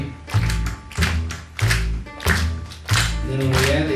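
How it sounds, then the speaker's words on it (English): Audience at a bluegrass school concert claps together on the onbeat, a loud group clap landing roughly every 0.6 seconds in steady rhythm over bass and guitar music. "But usually we clap with the onbeat, right?"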